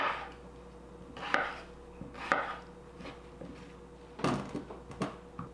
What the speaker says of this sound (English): I've got about 4 potatoes that I'm just going to chop up here